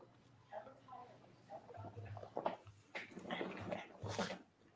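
A dog whimpers and whines softly in a series of short, high cries, close but quiet against a faint background hum.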